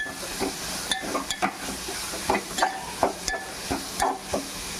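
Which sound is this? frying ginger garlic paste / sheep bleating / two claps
frying ginger garlic paste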